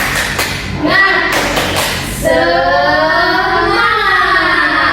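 Primary school class claps a short rhythmic chant-clap pattern in unison, crisp close claps with children's voices, followed by voices calling out together over the rest.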